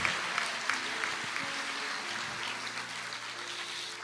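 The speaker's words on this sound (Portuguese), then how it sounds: "A igreja aplauda mais uma vez." Church congregation applauding together, a steady broad wash of clapping with a few sharper claps, moderately quiet and even throughout, with faint tonal hum underneath.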